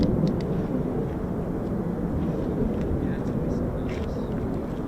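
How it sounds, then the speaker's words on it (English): F-16 fighter jets pass overhead at an air base, a steady broad roar that stays loud through the whole stretch, with no distinct approach or fade. "Definitely F-16s."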